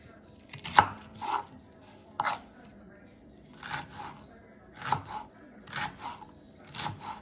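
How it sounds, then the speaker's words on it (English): A knife slices an onion on a cutting board in irregular bursts of crisp chops and cuts, close and clear, with brief pauses between runs of strokes. "Let's use half of the onion. Take the skin out and slice them up."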